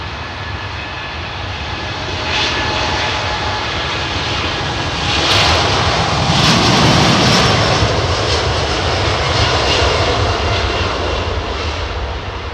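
China Airlines jet airliner taking off at London Heathrow, a loud continuous engine roar that builds in two steps, with rising whine and hiss as thrust increases.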